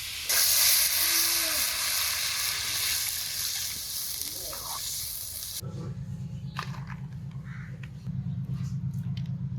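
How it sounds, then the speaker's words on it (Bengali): Water for a potato and cauliflower curry gravy goes into a hot pan of fried spice masala, giving a loud, rushing hiss of steam that slowly dies down to a quieter bubbling with a low hum beneath. "এখন ঝোলের জল দিব।"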